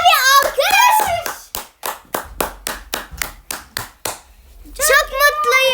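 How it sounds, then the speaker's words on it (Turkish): About ten steady, evenly spaced hand claps ring out close and alone, with a child-like voice speaking just before and after the applause on a playful singing-show stage. "Koca bir alkış"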